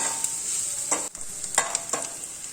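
Food roasts in about two spoons of oil for sabudana khichdi, heard as a close sizzle broken by several sharp spoon stirs and scrapes. There is no talk.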